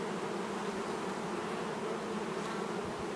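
Honeybees buzz in an open beehive, a dense, continuous drone of many insects close by with no voices.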